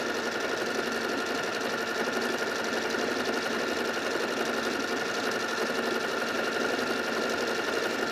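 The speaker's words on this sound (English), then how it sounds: "it basically sews a few straight stitches, and then it sews a spiral" A Performance Icon sewing machine runs steadily through straight stitches and into a spiral pattern, giving a continuous close mechanical whir and rapid needle chatter with no pauses and no speech.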